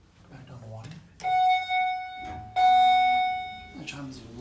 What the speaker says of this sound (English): That chime is loud.